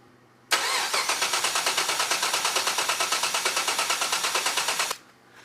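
A supercharged LS3 V8 in a 1967 Chevrolet Nova cranks steadily for about four seconds with a rapid, even chugging rhythm, then stops without catching, getting no spark.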